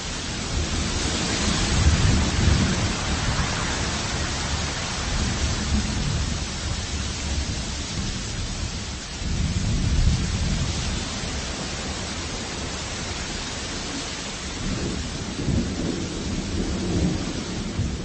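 A thunderstorm with steady heavy rain hissing throughout and deep rolling thunder swelling several times, constant and enveloping with no voices.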